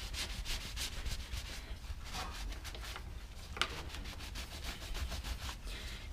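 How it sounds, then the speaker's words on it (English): A rag soaked in rubbing alcohol wipes down a tire surface before a Flex Seal flat repair, giving steady, close, rhythmic rubbing strokes that continue without pause and without talk. "I'm gonna wipe him off with rubbing alcohol so the Flex Seal have a good clean surface to bond on"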